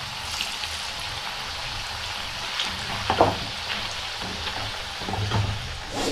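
Potato slice pakoras fry in hot oil with a soft, continuous bubbling sizzle and a few faint clinks, moderately quiet throughout.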